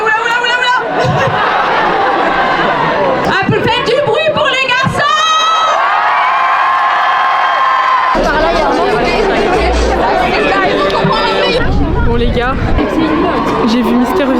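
Loud, dense crowd at a GP Explorer race event cheering, whooping and shouting for the drivers, continuous and close, with voices and chatter throughout.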